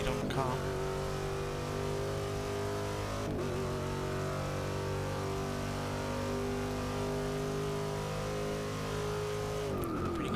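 A race car in Forza Motorsport 6 accelerates flat out down a straight, its engine a loud, sustained high drone climbing steadily through the gears, with brief dips at each shift near the start and end.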